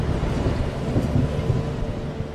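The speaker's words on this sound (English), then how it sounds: "An approaching downpour threatens to grow into a lightning storm." Thunder from an approaching storm above Singapore's Marina Bay Sands, a steady low rumble lasting throughout with a hiss like rain, loud and continuous, with no voices.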